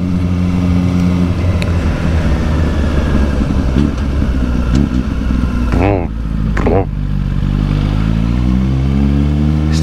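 A 2020 Suzuki GSX-R1000R engine drones loudly and steadily under heavy wind rush while riding, with quick rev blips as it shifts down through the gears at low speed without the clutch.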